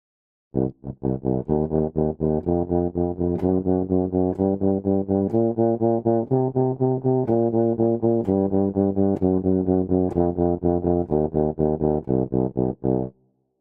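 A trombone plays the blues scale from low C as a long run of steady, evenly spaced sixteenth notes, loud and close, with no talking.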